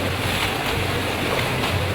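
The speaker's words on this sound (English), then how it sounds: "the 100 years of cinema technology creating the waves. There's a guy with a barrel just pumping it up and down" Waves on a film set made by a man pumping a barrel up and down in water, a steady, close, continuous rushing splash with no talking.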